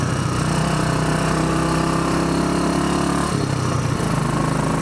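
A Royal Enfield Bullet 500 Iron Barrel motorcycle engine running steadily and loud up close, a continuous thumping drone with a brief dip in pitch near the end as it shifts, no talking.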